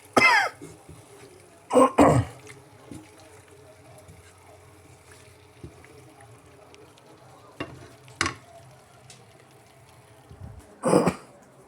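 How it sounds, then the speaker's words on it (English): Close coughs and throat clearing come in short, sharp bursts: a couple near the start, another around two seconds, one near eight seconds and a final one near the end, with quiet room noise between them. "I'm coughing."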